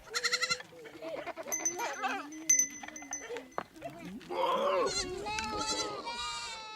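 A Samburu herd of goats bleats in the grazing hills, several loud, wavering calls from different animals overlapping and following one another, with occasional light clinks between them.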